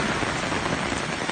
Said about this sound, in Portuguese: Essa hora não funciona metrô, não funciona trem, coisa nenhuma com esse aguaceiro todo.